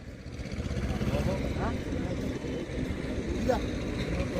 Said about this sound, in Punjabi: ਇੱਕ ਹੋਰ ਆ ਗਿਆ ਟਰੈਕਟਰ